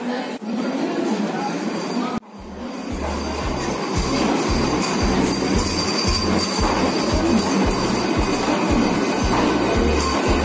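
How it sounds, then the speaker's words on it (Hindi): A Vande Bharat Express pulls into New Delhi station: a thud, then a swelling rumble with steady rhythmic wheel clacks growing louder and close as the train passes. "अपनी ट्रेन आ गई है"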